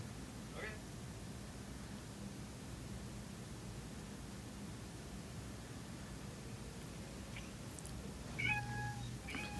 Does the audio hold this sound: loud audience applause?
no